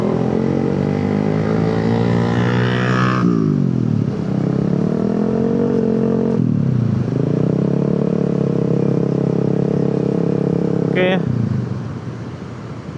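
A motorcycle accelerates through Jakarta city traffic, its engine note climbing loud and close, dropping at each gear shift, then rising again before easing off near the end.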